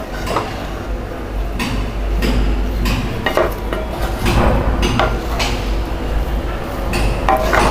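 Tomato rice being stirred in a pan produces loud, close metallic clanks and scrapes that repeat at an irregular pace throughout.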